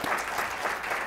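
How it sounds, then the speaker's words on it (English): Audience applause at a bar-industry business talk, a brief burst of steady, full clapping from a crowd with no other sound on top. "You can applaud."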